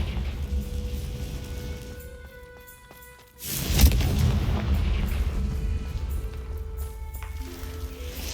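Confringo blasting spell explosion in Hogwarts Legacy, a sudden loud boom midway that rolls into a sustained rumbling blast over ambient game tones.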